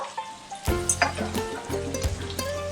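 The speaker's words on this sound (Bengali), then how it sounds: "সমস্ত কিছু আমি একটু নেড়ে চেড়ে ভেজে নেব" Spiced ingredients sizzle and crackle as they are stir-fried in a pan, with coriander, cumin and chili powder going in alongside shrimp paste for a fish curry. Several louder sizzling bursts and scraping stirs sit close up over a steady frying hiss.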